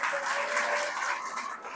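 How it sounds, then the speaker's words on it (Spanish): Applause from a gathering at a spiritual retreat at an abbey, a steady wash of clapping from a seated audience, moderately loud and continuous, fading slightly toward the end. "Un aplauso a los de Chihuahua, por favor."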